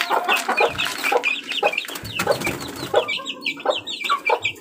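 Young chicks of a backyard flock peep and cluck in a busy, overlapping chatter, with repeated short high calls close by and no talk over them.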